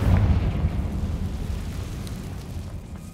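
Deep, rumbling Confringo spell explosion in the Hogwarts Legacy video game, loud and booming at first, then settling into a sustained low roar with no voices over it.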